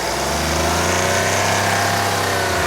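A car with a 1.1-litre three-cylinder turbo diesel engine runs steadily, giving a constant buzzing, slightly rattly engine drone with road noise and no talk.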